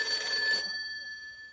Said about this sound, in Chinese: 呀，我妈给我来电话。